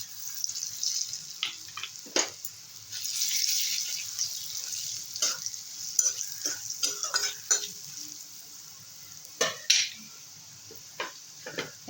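Garlic and two dried red chillies fry in oil for a taro-leaf dish, giving a steady close sizzle broken by stirring scrapes and clicks, with no talk.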